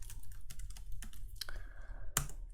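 Typing code on a computer keyboard, a brisk run of close individual key clicks at uneven intervals ending in a louder sharp tap, over a faint hum.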